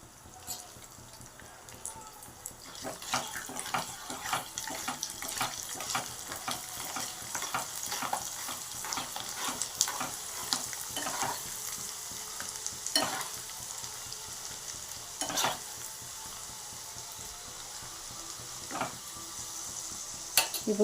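Peeled garlic cloves frying in hot oil, a steady soft sizzle broken by repeated scraping strokes of a spoon stirring the pan, close and continuous for about twenty seconds.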